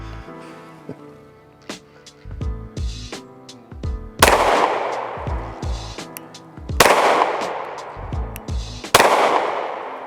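Gunshots from a handgun with a red dot sight fired at a target from the 10-yard line, three sharp loud cracks spaced a few seconds apart over ringing tonal background noise.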